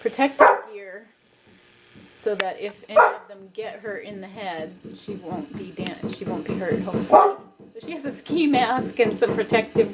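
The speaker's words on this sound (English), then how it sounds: "that's our dog, hang on" A pet dog barks repeatedly in sharp, loud bursts near a backyard robin nest, with some yips and whimpers, while a person keeps talking over and between the barks.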